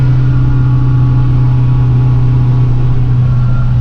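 A turbocharged and supercharged Mk2 Golf engine runs steadily at close range, a loud, constant mechanical drone with a strong low hum and no pause throughout.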